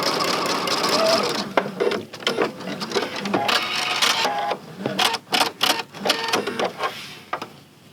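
A sewing machine with a piping foot stitches cording into a quilt binding edge, with a steady mechanical whir and irregular rapid needle clatter that speeds up and pauses near the end.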